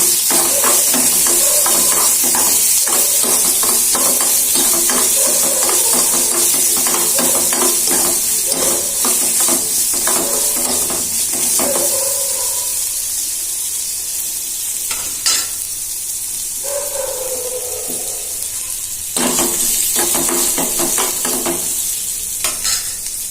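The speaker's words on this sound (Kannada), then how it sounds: "ಇದನ್ನ ಚೆನ್ನಾಗಿ 5 ನಿಮಿಷ ಡ್ರೈ ಮಾಡ್ಕೊಳ್ಬೇಕು." Vangi bath ingredients dry-roast in a pan with a steady, close hiss, while a spatula stirs in quick repeated scrapes. Toward the end the stirring slows to occasional strokes over the continuing sizzle.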